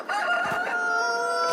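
A rooster crows on a farm where hens and roosters are kept, one loud close crow with a strained, harmonic-rich call that holds steady before breaking off, alone with no talk.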